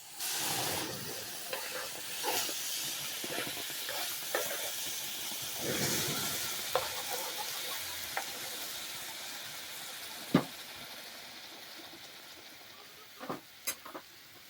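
Tomato hits browned rice in a hot pan, producing a soft steady sizzle and hiss with stirring scrapes and a few sharp clinks of a utensil against the pan.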